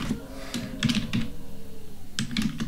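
Keys clatter on a computer keyboard in short bursts of clicks with brief pauses between them, close and fairly loud over a low steady background hum.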